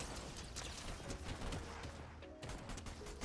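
Rapid pistol gunfire in a competitive shooter game, dense overlapping shots in quick bursts at fairly low level, with no talking over it.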